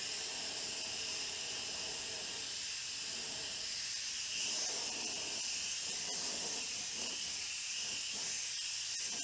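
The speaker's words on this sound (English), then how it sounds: "I'll be using this air fan by Wallacom also" An electric air fan blows a steady, even hiss while drying fresh paint during clear coat repair work, with a constant airy rush throughout and no talk.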